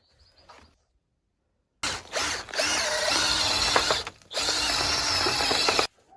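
Rotary brush spun by a power drill scouring the inside of a stove chimney pipe that runs outdoors, a loud, near whirring and scraping that runs for about four seconds with a short pause midway.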